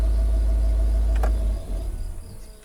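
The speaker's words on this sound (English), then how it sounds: "Engine will automatically shut off" A Range Rover L322 TDV8 diesel engine shuts off: a loud, steady low idle rumble runs for about a second and a half, a brief click sounds, then the engine cuts out, leaving a faint winding-down hum.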